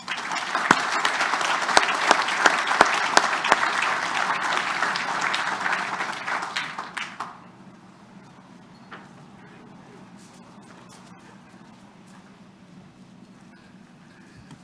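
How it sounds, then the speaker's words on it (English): Audience applause for an honored family at a soybean farm celebration marking an association's 100th anniversary; loud, dense clapping for about seven seconds, then fading to quiet crowd murmur and light outdoor background. "Please give them your applause and your thanks one more time."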